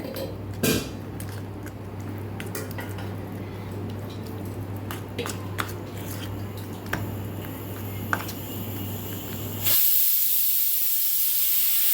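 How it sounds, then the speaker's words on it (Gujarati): A pressure cooker boiling cluster beans gives a whistle that bursts into a loud, steady steam hiss near the end, after a long stretch of quiet kitchen background with a low hum and occasional clinks. "સાઈડ ઉપર આપણી સીટી પણ થવા લાગી છે"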